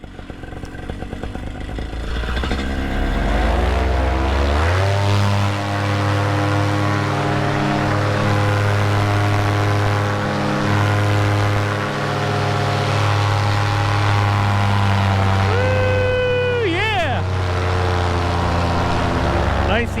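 A paramotor engine roars up close through a launch with an Ozone Speedster 3 wing in near-calm air, spinning up to a loud steady drone with shifting pitch before a brief throttle change near the end.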